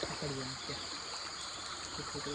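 A shallow Konkan stream flows with a steady rushing trickle, close and continuous, while a voice talks briefly over it.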